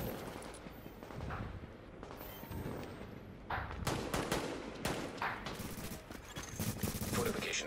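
Gunfire during a PvP shooter match, bursts of automatic and rapid shots crackling near and far in uneven waves, with players talking over the fighting.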